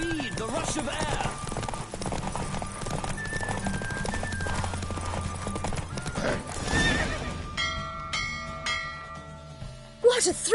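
Hooves clip-clop rapidly through a horse race in The Witcher 3, with whinnies and neighs mixed into game music and bells, while voices talk over the galloping.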